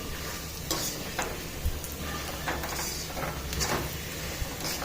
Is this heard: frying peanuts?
yes